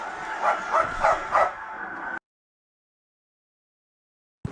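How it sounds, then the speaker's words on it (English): A dog barks several times in quick succession near the commentary booth during a WWE 2K18 match, the yips loud and close, followed by abrupt silence. "Why did you bring your dog to the commentary booth?"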